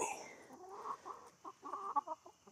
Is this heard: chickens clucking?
yes